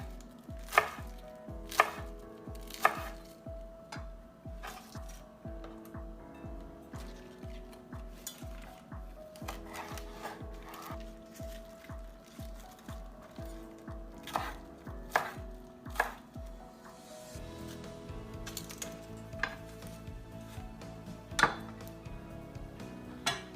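Rolled-up chard gets sliced by a knife in a long run of quick, steady chops on a board, close and crisp, with occasional louder knocks and a brief clink of kitchenware near the end.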